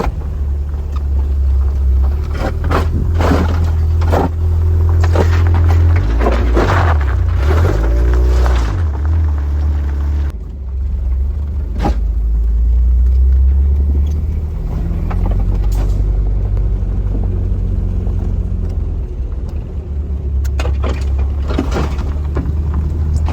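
A Mazda Miata driving a winding mountain road from a cabin, its engine a steady low rumble with rising and falling revs and occasional clunks and road noise throughout, no voices present.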